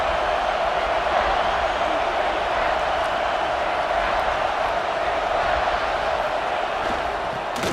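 A big stadium crowd roars in a football video game near the goal line. The noise is a continuous, dense wall of cheering that stays loud and even, with a commentator's voice over it.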